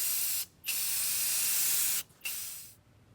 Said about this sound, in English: let's get to spraying the black metallic